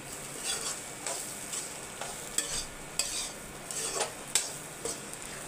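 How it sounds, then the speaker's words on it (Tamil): A spoon stirs boiled chickpeas for sundal in a cooking pan, giving repeated light scrapes and clinks over a soft background sizzle. "இப்போ சுண்டலை சேர்த்துக்கலாம்."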